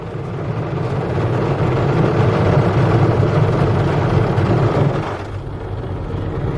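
A PDQ ProTouch tandem automatic touchless car wash at a Phillips 66 station runs loudly around the car with a dense, aggressive roar of spray and machinery that drops off sharply near the end.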